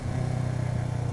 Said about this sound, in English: Take it out for a little spin. Get the engine warmed up. Get the feel of the bike.